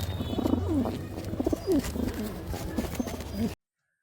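Pigeons coo in soft repeated throaty phrases close by, several calls over a faint background hum before the sound cuts off abruptly.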